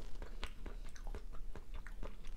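Someone eating canned Chinese mala-spiced clams up close, with rapid wet chewing and biting sounds in an irregular rhythm and no talking.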